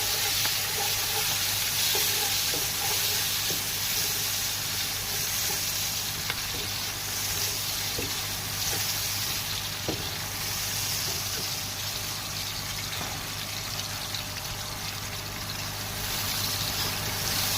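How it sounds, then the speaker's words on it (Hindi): Onions sizzle in hot oil in a home kitchen as they fry toward light golden brown for chicken palao. A dense, continuous crackle runs close by, with occasional stirring clinks and no voices. "इसमें प्याज डाल के मैं लाइट गोल्डन ब्राउन करूँगी।"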